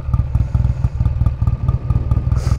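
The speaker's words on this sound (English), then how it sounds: "Yeah, the bike sounds amazing." A vintage Triumph motorcycle engine runs steadily close by, a loud, low, throbbing rumble with a fast, even rhythm of firing pulses and no voices.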